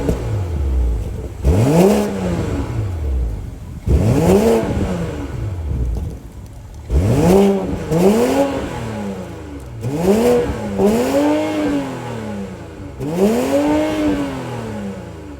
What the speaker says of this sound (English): that was the sound of the 3-liter straight 6 B58 twin scroll turbo